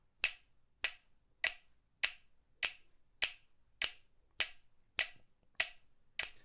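Sharp finger snaps repeat at a steady, even pulse about every 0.6 seconds, keeping time with a metronome; eleven crisp, close clicks with nothing else heard.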